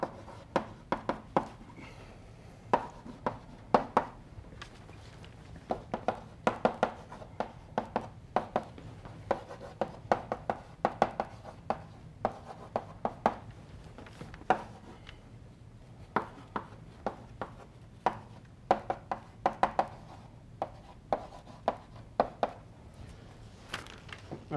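Chalk tapping and scratching on a board as equations are written out during a physics lecture, a steady run of sharp, fairly quiet strokes in an otherwise silent room.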